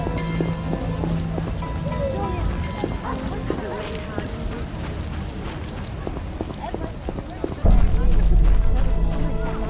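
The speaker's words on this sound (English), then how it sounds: "Oh, when will this rain stop?" Steady rain patters throughout in the video game The Witcher: Enhanced Edition, with hoofbeats and voices talking over it, growing louder near the end.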